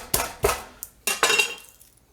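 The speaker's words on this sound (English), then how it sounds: "I'm going to take 2 cloves of garlic here and I'm going to bruise them." Garlic cloves being smashed on a kitchen surface to bruise them, four sharp knocking impacts in uneven succession, each with a brief clattering ring.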